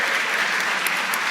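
Dense, continuous clapping from an audience at a talk event, a bright, steady rattle of many hands close by with no voices over it.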